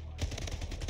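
Rapid automatic gunfire from the arena shooter Splitgate, a close burst of quick repeated shots lasting under a second.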